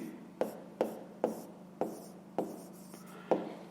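Pen or pencil strokes on paper while working a fifth-grade math exercise, a close series of about eight short scratchy marks at a steady, unhurried rhythm over a faint low hum.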